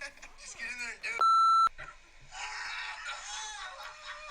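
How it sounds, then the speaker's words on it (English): A single loud, steady censor beep about half a second long cuts over speech, with people talking and shouting before and after it. "we got to beep his name again."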